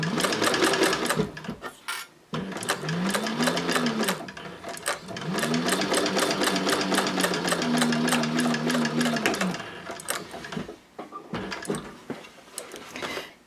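A Techsew 4800 Pro sewing machine stitching fabric runs in long continuous bursts with a steady mechanical chatter, stopping briefly in between, close and loud with no talk.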